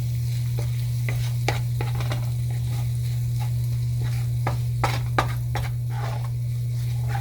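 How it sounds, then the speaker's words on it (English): Ginger, garlic and onions sizzle steadily in a pan for coconut curry chicken, with a constant low hum underneath and repeated sharp scraping clicks of a utensil stirring through the mix. "now we're gonna mix the ginger and the garlic with the onions."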